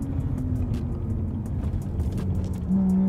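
An overheating car engine losing power drones steadily up close, its low hum wavering slightly before a sharper, higher tone rises near the end.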